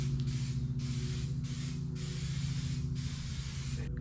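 A paint spray gun lays a coat on a 1963 IH Loadstar truck fender in bursts of steady hissing, about four passes separated by short breaks, close and fairly quiet.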